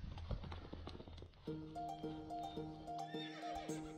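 A horse whinnies in the video game To The Moon, a high, wavering neigh with strong tonal harmonics heard after some rustling and hoof-like clatter, moderately close over faint game ambience.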